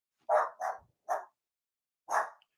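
A dog barks four times up close, loud and clear, with three quick barks in a row, a pause, then one final bark, and no other sound around them.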